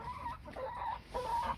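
Several chickens clucking in a tubular-frame chicken run on an allotment, a run of short, fairly quiet clucks and squawks in quick succession over a steady outdoor background.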